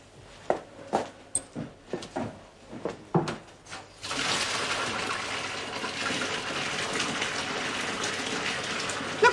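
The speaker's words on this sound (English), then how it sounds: "pick yourself a bath then and get it filled with water" Water gushes steadily into a bath in an old-fashioned bathhouse, a sustained rushing pour that begins after several separate splashes and knocks and then continues without pause.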